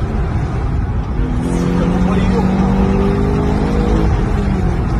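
SUVs, a Hellcat among them, race fast through highway traffic, engines droning loud and steady with rising tonal whine as vehicles pass close, under continuous road roar.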